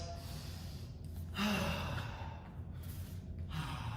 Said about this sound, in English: Let's take a couple of deep breaths